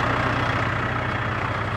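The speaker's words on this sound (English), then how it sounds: "now I'll steer the skid steer" A skid steer's engine idles at low revs on a farm, a steady near drone with a low even pulse throughout and no talk.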